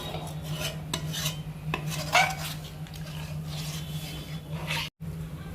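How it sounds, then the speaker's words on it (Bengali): A spoon scrapes and stirs paneer gravy in a metal pan, with a steady low hum of a stove burner underneath and a few sharp clinks of utensil against the pan. "এবার ভালো করে মিশিয়ে মা ঝোলটাকে একটু ফুটিয়ে নেবে।"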